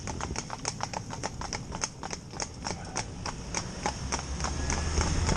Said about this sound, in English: Bring my lead horse over.